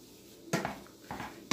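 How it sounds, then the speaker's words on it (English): Utensil scraping and clanking against a pot while ground meat is stirred and chopped as it browns for lasagna soup, with three distinct bursts of clatter standing out over a quiet background. "Stirring."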